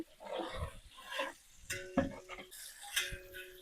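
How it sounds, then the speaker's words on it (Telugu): Spoon scraping and knocking inside a large pot of moong dal and potato biryani, irregular clinks and stirring scrapes close up, fairly faint. "కలుపుతానా ఇక మాడద్దంటే ఇక కలుపుడు ఉంటుంది"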